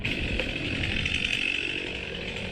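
A chainsaw cuts through a standing tree during felling in a forest, its engine droning loudly and continuously at high revs close by, with no voices.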